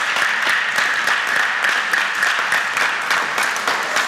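An audience of students applauds a contestant at a junior high school quiz competition, a loud, even burst of many hands clapping close by, with distinct claps rippling through for about four seconds.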